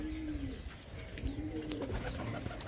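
Andhra pigeons coo softly in a low, repeated rolling call. Faint chirps and background noise sit under the coos, and no voice is heard.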